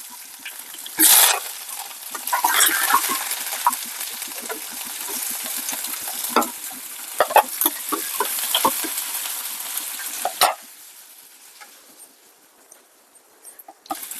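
Chana dal, urad dal and green chillies fry in hot oil in a pan, giving a steady close sizzle with occasional sharp pops and stirring scrapes, easing off toward the end, with no talking.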